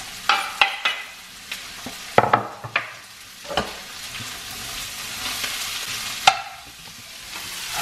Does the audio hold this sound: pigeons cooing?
no